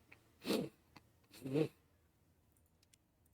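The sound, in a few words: sniffling or sneeze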